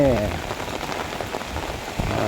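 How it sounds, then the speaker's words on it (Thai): Steady rain falls and soaks everything in a hot-weather Thai downpour, a dense continuous hiss of drops hitting surfaces, close and fairly loud from start to finish, with a brief voice near the beginning. "ฝนตกเปียกหมดนะครับ"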